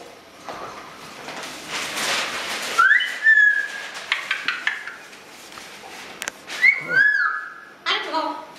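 A cockatoo gives two sharp wolf whistles, each a rising then falling glide, separated by a few seconds, with scuffling and clattering noises around them, in the Arizona desert.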